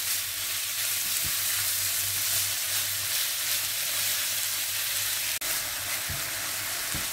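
Fish sautés in a pan with onion and garlic for a Portuguese-style dorada dish, a steady close sizzle and hiss with occasional stirring scrapes and a brief clink.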